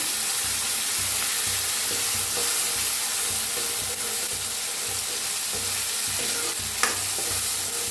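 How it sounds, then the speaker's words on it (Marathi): Onion and masala paste for sambar roasting in hot oil make a loud, dense, continuous sizzle and hiss close by, with light stirring scrapes and a brief clink near the end, with no talking. "कांदा भाजल्यामध्ये जी पेस्ट बनवून घेतली होती ती बी आपण भाजून घेऊया"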